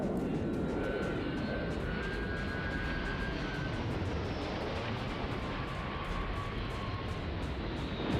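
A spaceship in Starfield comes in to land nearby, a steady loud roaring engine drone with a thin whine, holding constant for the whole stretch without pause.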